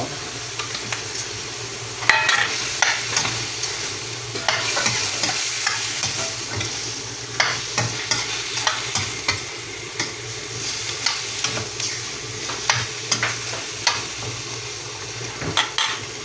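Chorizo frying in a pan for pancit bihon, a steady close sizzle with scattered clinks and scrapes of a utensil against the pan throughout, no talking.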